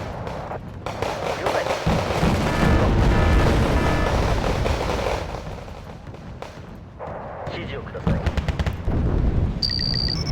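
Artillery fire in Wargame: Red Dragon, with dense, continuous booming and crackling blasts, loud and close, easing off and then picking up again with sharper impacts. A voice talks over part of it.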